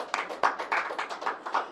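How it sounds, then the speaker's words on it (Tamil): A church congregation claps hands in praise, giving a quick run of about eight crisp, evenly spaced claps that sound fairly close. "கைத்தட்டி ஆண்டவர் மகிமைப்படுத்துங்க."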